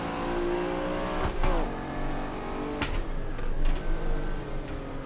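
Lamborghini Diablo mod engine in the Assetto Corsa racing game roars steadily at high revs, with gear-change dips and rising pulls as the car charges through the grid, loud and close with no talk.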